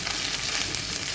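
Onions and ginger paste frying in hot ghee, a steady dense sizzle that stays loud and close throughout, with no voices.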